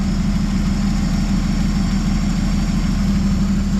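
A 1964 Chevrolet Biscayne V8 idles steadily after its first start in 20 years, a loud, continuous low rumble with no talk over it.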